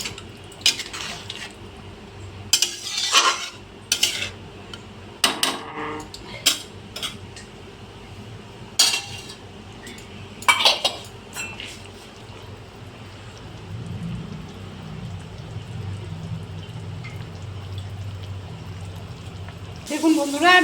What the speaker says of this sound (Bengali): আমি প্লেটটা ধুয়ে একটু জল দিয়ে দিলাম।